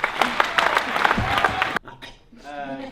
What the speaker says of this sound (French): je pense qu'on peut encore les applaudir parce qu'ils le méritent vraiment